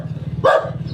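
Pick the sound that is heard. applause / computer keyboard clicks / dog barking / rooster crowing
dog barking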